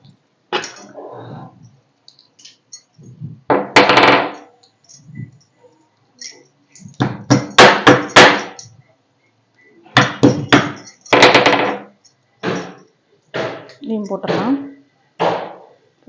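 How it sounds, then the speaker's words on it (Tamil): Cardamom pods being pounded for a Tamil-style chicken kurma, with bursts of sharp tapping and knocking in clusters between stretches of speech, close and fairly loud. "ஏலக்காயை வந்து தட்டி போடலாம்"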